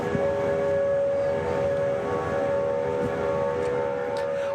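Tornado warning sirens wailing during an April tornado outbreak near Memphis, a sustained steady tonal siren blare that is loud and unbroken, with no talking.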